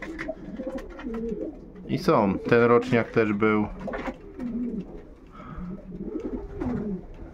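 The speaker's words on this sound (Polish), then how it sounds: "Wszystkie te gołębie były na locie." Racing pigeons coo softly in the background while someone talks over them, a low murmuring from several birds nearby.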